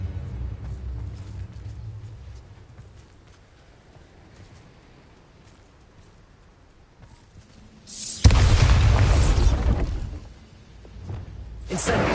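A Bombarda explosion spell cast in Hogwarts Legacy erupts as a loud, sudden broadband blast with a heavy booming rumble, sustained for a couple of seconds before fading, followed by a second burst; quieter game ambience precedes it.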